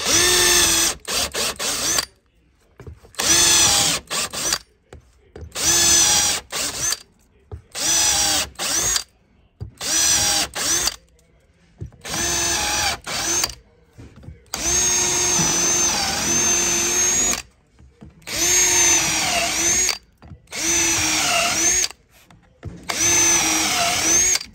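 Power drill bores a hole in a Harley-Davidson saddlebag lid, a loud high-pitched whine in repeated bursts of a second or two separated by short silences, close up and alone without talk.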